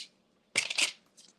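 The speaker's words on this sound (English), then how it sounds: "We're going to cut our card base out." Card stock being cut for a card base on a crafting table: a short, crisp rasping burst of about half a second with a faint softer scrape trailing after, then quiet.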